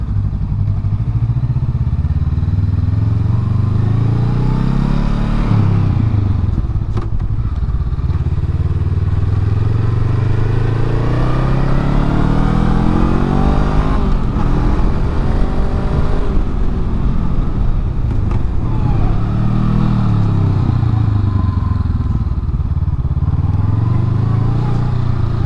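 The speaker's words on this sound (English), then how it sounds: "with the stock exhaust, it has a more low, like, farty tone while it's just sitting" A Honda Rebel 500 motorcycle with its stock exhaust makes a steady, loud, low rumble throughout, its engine pitch rising and falling gently a few times as if rolling slowly or being lightly revved.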